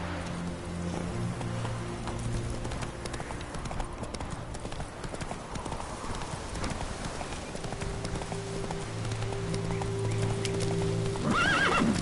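Horse Roach from The Witcher 3 gallops with steady clip-clop hooves over a rainy patter, a whinny rising near the end, loud and continuous with no talk.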